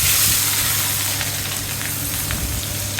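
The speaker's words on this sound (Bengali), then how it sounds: "পেঁয়াজ কুচি কাঁচামরিচ ভালোভাবে দিলাম তেলের সাথে, নাইড়া চেড়ে নিলাম" Chopped onion and green chilies sizzle steadily in hot oil in a pan after frying shing fish, a dense continuous hiss with occasional pops and stirring, close and alone.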